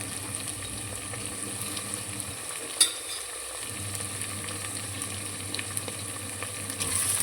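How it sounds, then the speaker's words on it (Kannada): Onion and tomato frying in a pan for millet bisibele bath, a quiet continuous sizzle with soft stirring and one small clink partway through. "ಈರುಳ್ಳಿ ಸ್ವಲ್ಪ ಟೂ ಮಿನಿಟ್ಸ್ವರೆಗೂ ಫ್ರೈ ಆಗಲಿ"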